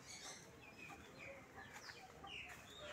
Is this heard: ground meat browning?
no